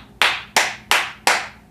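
Four crisp, evenly spaced hand claps ring out in quick succession, loud and close, with nothing else heard.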